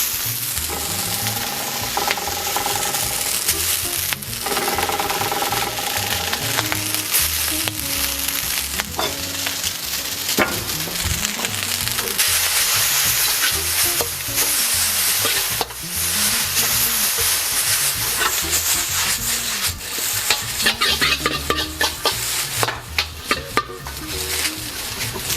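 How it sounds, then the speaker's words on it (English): Vermicelli noodles stir-fried for Singapore noodles, a continuous loud sizzle in the pan with repeated scraping and tossing of the utensil throughout. "time to add in our vermicelli noodles."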